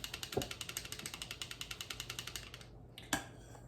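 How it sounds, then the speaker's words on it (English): A fine-mesh hand-crank sifter works flour into a giant Pyrex measuring cup, a rapid, steady run of small ratcheting clicks up close that stops near the end, followed by a single knock. "We're just going to sift this into this giant Pyrex measuring cup."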